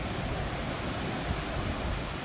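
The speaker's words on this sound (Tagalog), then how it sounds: "malakas pa rin ang agos. At saka rumaragasa talaga" A dense, constant roar of rushing floodwater during a typhoon's landfall fills the scene, loud and unbroken, like a strong current surging past nearby.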